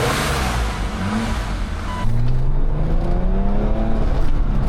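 BMW car engine running while driving, a close, loud drone that rises in pitch as the car pulls away and accelerates, with no talk.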